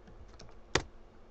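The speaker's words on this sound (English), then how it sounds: "Now type." Typing on a computer keyboard while building a batch script, with a few soft scattered keystrokes and one sharper, louder key press near the middle, close up and alone.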